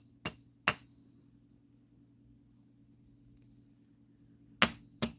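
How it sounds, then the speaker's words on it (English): A hammer strikes 20 gauge wire on a hard metal surface to harden it, with two sharp ringing clinks, a long pause, then two more close, bright metallic taps. "So I'm just hammering these a little bit to harden them up some, because this is 20 gauge wire"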